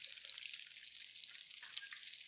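Taquitos fry in hot oil, giving a steady, dense, bright sizzle that runs without a break, close by and fairly quiet.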